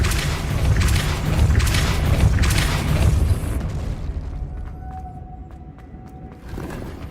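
A Depulso spell blasts in the Hogwarts Legacy video game, a loud, dense rumbling boom that fades into a quieter stretch with a faint whistling tone and light ticks.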